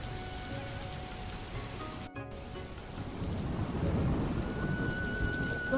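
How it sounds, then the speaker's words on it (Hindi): Heavy rain pours down with a gusty storm, a steady hiss and patter that thickens and grows louder partway through, with no voices. "एक जोरदार आंधी के साथ बारिश होने लगी।"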